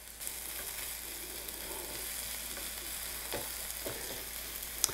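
Zucchini and mushrooms fry in a Uniflame frypan with a steady, fairly quiet sizzle and a few faint clicks from stirring.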